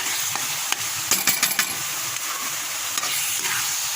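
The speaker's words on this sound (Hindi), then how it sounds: "और फिर मुझसे चमचे का शोर हो रहा है।" Metal spoon scrapes and clinks against a pot of biryani amid steady sizzling, a few quick clanks in a short burst, close by.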